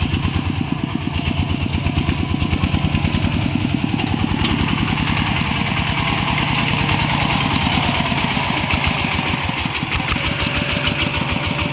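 A motorcycle engine idles and revs steadily up close, a loud continuous rumble with a rapid pulsing beat throughout.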